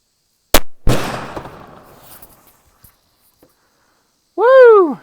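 A single 7mm Remington Magnum rifle shot with factory Core-Lokt ammunition at an outdoor range, a sharp loud crack followed by a rolling echo that fades over about two seconds, then a brief voice.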